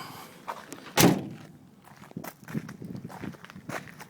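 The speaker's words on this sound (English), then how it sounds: "Open up the tailgate for you." The tailgate of a 2007 Ford F250 diesel 4x4 pickup is opened, giving one loud metallic thunk followed by softer clanks and light handling noises nearby.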